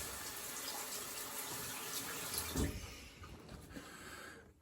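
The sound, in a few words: cold tap water running to rinse a razor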